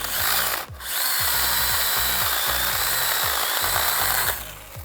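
A STIHL GTA26 mini battery chainsaw cutting wood whines steadily and loudly, its motor note dipping and rising in repeated bursts as it bites, with a brief pause near the start.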